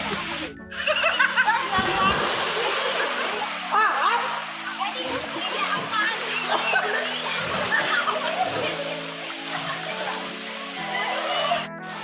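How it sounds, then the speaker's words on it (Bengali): Tourists splash and jump into the waist-deep pool beneath the Moti Jharna waterfall in Jharkhand, a dense, steady wash of falling and churning water filling the scene throughout, with voices mixed faintly into the roar. "পর্যটকেরা আনন্দে স্নান করতে এবং ঝাঁপ দিচ্ছে"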